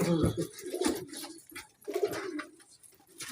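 Pigeons coo in soft, throaty rolling calls close by, two or three bouts with short gaps between, clear and unaccompanied by talk.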